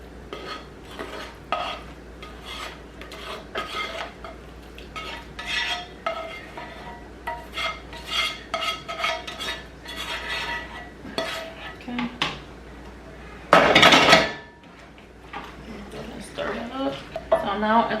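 Vegetables go into a pot of homemade chili with clattering cookware, scraping utensils and stirring, then a sharp loud clank, while a person talks throughout.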